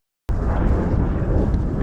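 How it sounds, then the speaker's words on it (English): After a brief silence, a deep roll of thunder from a storm passing over a mountain bursts in and rumbles on steadily, loud and broad. "Thunder's just started to roll in."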